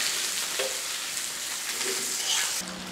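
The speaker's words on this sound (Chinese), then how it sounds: "给它爆香，对哈，多爆一下，你一定要让它爆香" Aromatics with Sichuan peppercorns crackle and hiss in hot oil while being stir-fried for a Sichuan lamb soup, a close, continuous sizzle with a few light clicks.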